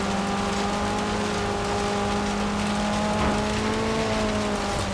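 A lightweight D-class car with a 2-litre engine of under 100 horsepower drives steadily in the Forza Horizon 3 racing game, its engine droning loud and continuous with rising and falling tones, and no voices.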